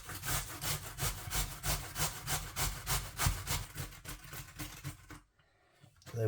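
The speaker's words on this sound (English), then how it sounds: "Anyway, you've got to grate the potato." An Aldi baking potato rubbed over a grater makes rhythmic scraping strokes, roughly three per second, close and crisp, ending in a brief pause before a final rustle.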